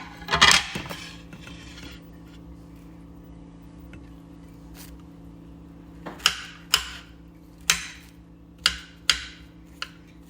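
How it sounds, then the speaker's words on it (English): Vegetables being chopped for a tofu stir fry, heard as a short series of sharp, evenly spaced chops on a board, close and fairly loud. A steady low kitchen hum sits under them and a louder clatter comes at the start. "While that's cooking, I'll continue to chop my veg."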